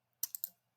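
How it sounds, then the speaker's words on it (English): A computer keyboard is typed on in three quick, crisp keystrokes, close and quiet, alone in near silence. "I'm just coming over, typing in my measurements"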